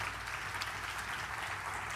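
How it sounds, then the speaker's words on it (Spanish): A church congregation breaks into steady, sustained applause during a Spanish-language worship service, a dense wash of clapping that fills the whole two seconds with no voice over it. "Yo creo que eso se merece un fuerte aplauso en esta hora."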